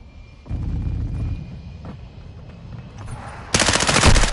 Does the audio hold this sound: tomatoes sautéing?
no